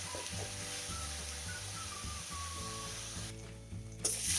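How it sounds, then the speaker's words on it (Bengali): Onion paste fries in a pan, giving a steady, moderate sizzle over a faint electrical hum throughout, with no voices. "এক দেড় মিনিট মতো পেঁয়াজটাকে ভালো করে ভাজতে হবে"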